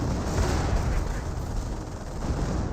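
Artillery fire from a Hummel self-propelled gun in the World War II strategy game Company of Heroes, heard as a continuous heavy low rumble of distant shelling and gunfire with no single clear blast.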